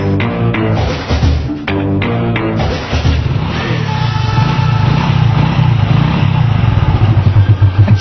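A new motorcycle engine runs close by, with a few sharp throttle blips at the start that settle into a steady, loud, rumbling idle with a slight pulsing throb.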